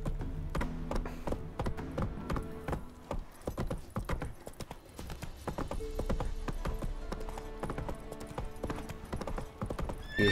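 Roach, the horse in The Witcher 3, gallops with rapid, steady clip-clop hoofbeats close up throughout, mixed with occasional whinnies from the game.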